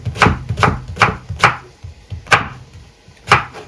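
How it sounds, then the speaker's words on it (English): A kitchen knife chops courgettes on a cutting board in quick bursts of sharp, close thuds, a fast cluster of strokes followed by a few spaced single chops, with no talking. "Chopping courgettes."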